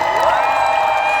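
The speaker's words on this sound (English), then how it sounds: "let's hear a big round of applause for all of our entrants" A crowd at the Birmingham MCM Comic Con costume championship applauds and cheers steadily, with whoops rising over continuous clapping throughout the short burst.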